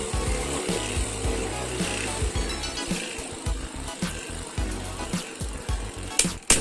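Beyblade Burst spinning tops whir and grind continuously in a plastic stadium, with scattered sharp clacks as they collide, close and fairly steady, ending with a couple of louder hits.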